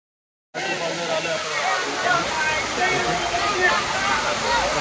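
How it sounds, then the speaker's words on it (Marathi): A small waterfall near Bhaje in Lonavala, its broad, steady rush of falling water starting abruptly and roaring continuously at close range with no letup. "हा इथे छोटासा एक धबधबा आहे, वरून येतोय तिकडून"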